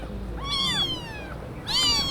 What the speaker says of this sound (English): Take these adorable newborn kittens, for instance.